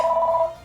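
A phone ringing on an incoming spam call, a steady electronic double tone sounding clearly and close for about half a second before fading out, with no voices.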